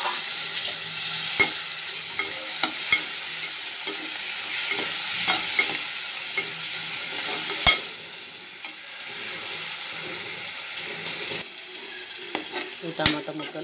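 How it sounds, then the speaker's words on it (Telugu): Tomato pieces frying in a pan, a steady close sizzle with a few sharp stirring clicks against the pan throughout and a quieter stretch near the end. "ఈ టమాటా ముక్కలు కొద్దిగా ఉడకాలి మెత్తగా"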